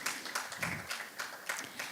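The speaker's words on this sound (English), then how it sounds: "Can we get a round of applause, please?" A workshop audience at a women-in-oil-and-gas mentorship event applauds, giving a soft, steady wash of clapping over about two seconds with faint, evenly spaced hand claps and no voices.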